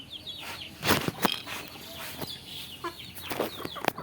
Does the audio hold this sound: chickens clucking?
yes